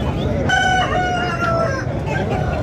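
A white-legged Aseel rooster crows once at a busy poultry market, a loud drawn-out cock-a-doodle-doo over a dense bed of crowd noise and other fowl.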